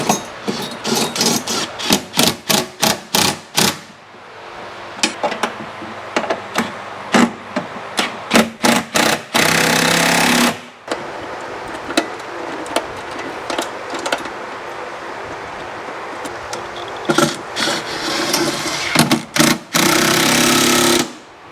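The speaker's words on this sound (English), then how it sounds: "Tighten this down, and then repeat on the other 3 holes that I showed you." Bursts of a power tool tightening running board mounting bolts on a Chevy Silverado, rapid rattling hammering in short repeated pulses and longer sustained runs, loud and close, with no talk.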